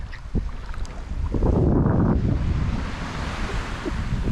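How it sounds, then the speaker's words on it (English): Surf washing onto the white sand of Playa Blanca near Livingston, Guatemala, a steady close roar of breaking waves swelling in the middle, with wind buffeting the microphone. "Playa Blanca, Guatemala's only finest and white sand beach"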